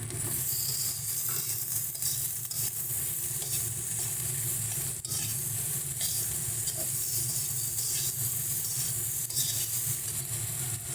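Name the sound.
boiled potatoes added to hot oil, sizzling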